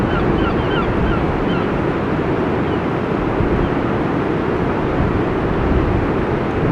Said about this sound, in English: So the wind's blowing into my back, so it's not hitting the camera.